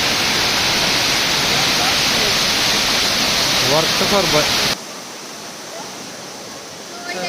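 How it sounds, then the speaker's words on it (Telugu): Kothapalli waterfall on a forest ride between Araku and Lambasingi roars as a loud, continuous broadband rush, with people talking over it before the sound suddenly drops to a quieter, more distant wash. "ఇదైతే కొత్తపల్లి వాటర్ ఫాల్స్ అనమాట"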